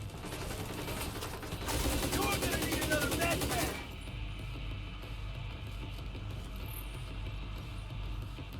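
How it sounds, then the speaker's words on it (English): Rapid automatic fire from a deployable turret in the video game The Division 2, aimed at a boss enemy, comes as a dense loud mechanical burst for about two seconds, then continues more softly amid steady game noise. "Look, the power of my turret against this enemy, against the boss."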